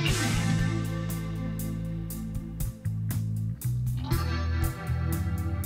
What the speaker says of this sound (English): I think I kind of like this drawn out one here on the left with the chords a little better with more reverb.